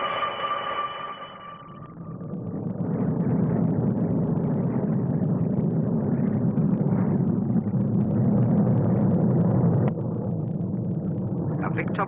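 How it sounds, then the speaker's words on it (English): A Sea Vixen naval fighter and a Comet 4 airliner fly past at the 1958 Farnborough air display, a broad, loud jet roar swelling after a quieter opening and holding steady throughout, with speech over it. "A distinctive Sea Vixen naval fighter, which leads in a stablemate, the Comet 4"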